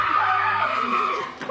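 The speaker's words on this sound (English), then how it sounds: "A scary, loud scream coming from within the haunted house has them running once more" A loud, high-pitched scream from inside a haunted house holds for over a second, then tapers off abruptly.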